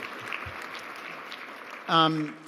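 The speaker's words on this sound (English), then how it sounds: "let's give Blake a round of applause" Audience applause rises briefly at a fireside chat event, a short burst of clapping following a man's speech, which also continues under it.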